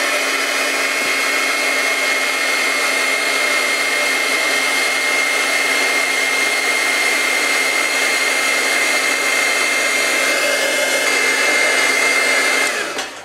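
A heat tool blows hot air over a glittered star ornament to set it, a loud, steady whooshing hiss held close for the whole stretch before cutting off at the very end.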